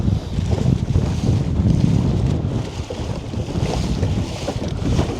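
A dinghy pounding through waves in strong wind, with a loud, steady roar of wind and rushing water close to the microphone and no break throughout.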